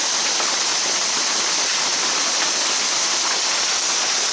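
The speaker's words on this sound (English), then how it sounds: "The hail's getting harder." Hail and heavy rain pound down without letup during a micro-burst storm on Lake Lanier, Georgia, a loud, close, dense hiss of constant impacts across the whole stretch with no voices.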